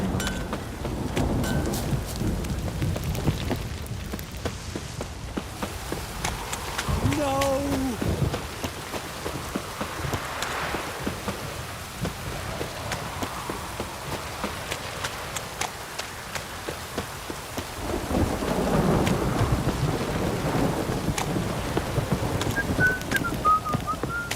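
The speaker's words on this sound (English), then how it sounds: "This downpour" Heavy rain pours steadily in The Witcher 3, with whistling wind and the clip-clop of a horse's hooves over it. Loud surges build in places, with rumbling swells near the start and late on.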